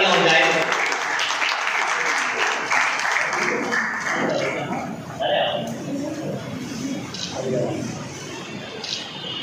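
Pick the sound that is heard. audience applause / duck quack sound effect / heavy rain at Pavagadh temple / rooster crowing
audience applause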